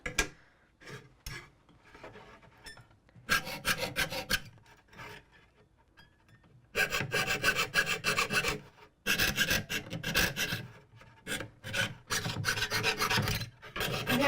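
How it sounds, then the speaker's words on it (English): A small jeweler saw cuts out Michigan peninsula shapes in close, rapid rasping strokes. The strokes come in uneven bursts separated by short pauses. "we will get started by cutting out the Michigan peninsulas using my little jeweler saw"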